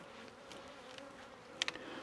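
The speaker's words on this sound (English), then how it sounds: "Again, plenty of bees in here." Honeybees buzz steadily inside an open hive from a swarm, a soft continuous drone with a few brief sharper tones near the end.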